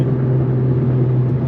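Tuned Infiniti Q50 sedan racing a big-turbo Subaru STI, heard as a steady loud engine drone with strong low harmonic hum, held constant without clear rise over a short stretch.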